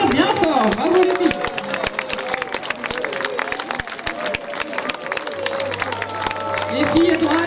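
Audience clapping for performers at a costume parade in Chanaz, a dense crowd applause of rapid sharp claps mixed with cheering and chatter, with a voice speaking over it.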